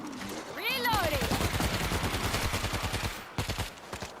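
Rapid automatic gunfire in World War Z, a loud, steady burst of shots lasting several seconds, then a few last separate cracks, with a sweeping whistle-like tone at the start.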